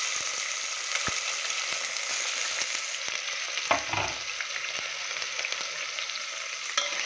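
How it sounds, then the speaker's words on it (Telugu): Onions and biryani masala sizzle in hot oil for a mutton curry. A constant bright frying hiss is broken by occasional stirring scrapes and a brief clatter midway. "తర్వాత ఇదిగో బిర్యానీ మసాలా, ఉల్లిపాయలు వేసుకుంటున్నాను."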